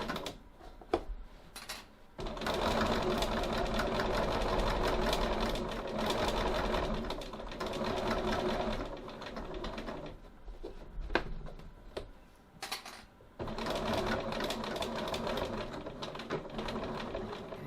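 Sewing machine stitching up the sides of a fabric pocket at a quarter-inch seam, long steady whirring runs interrupted by brief pauses and handling clicks, close and loud.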